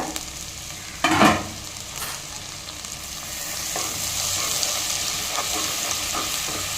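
Steady sizzling of garlic and chillies frying in hot oil, with a brief stirring scrape early on and a continuous crackle throughout.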